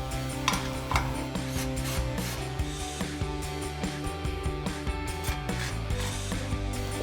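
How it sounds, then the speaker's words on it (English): A ratchet with a 5mm Allen socket tightens crossbar Allen head bolts on a truck grille guard, giving a steady run of close, rapid clicking pawl strokes with faint metallic rubbing. "we'll tighten down our 2 crossbar Allen head bolts with our 5mm Allen socket"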